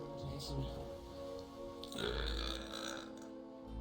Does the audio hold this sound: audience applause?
no